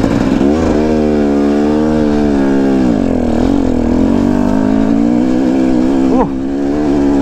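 A KTM 250 EXC dirt bike revs hard on a steep hill climb, its engine note rising and wavering continuously up close with a sharp blip near the end, wheel spinning for traction.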